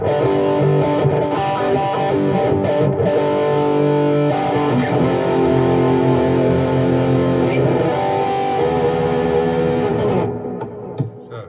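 Electric guitar through a patch with heavy delay and reverb, played on an Ibanez Proline 1770, sustained distorted chords ringing loudly for about ten seconds before cutting off into a decaying tail.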